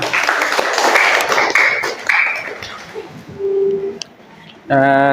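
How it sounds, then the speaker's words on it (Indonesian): Classroom applause, a short burst of clapping hands that fades out after about three seconds, followed by a sustained tone and then a loud electronic chime. "tepuk tangan"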